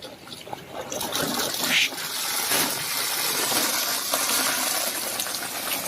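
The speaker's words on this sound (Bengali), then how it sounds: "আমি জলটা খুললাম, এরপর দেখুন এই জলটা বেরোবে এইদিকে।" Water released to flow into a clay fish-breeding tank, a steady rushing, splashing stream that runs continuously and fairly loud throughout.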